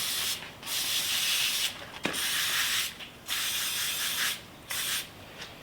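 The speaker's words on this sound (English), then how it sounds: "Give that a shot with your brake clean." Aerosol brake cleaner sprayed onto the rear brake parts of a Mazda CX-30, loud hissing bursts of varying length broken by short pauses, with a brief metallic tick between bursts and no talk.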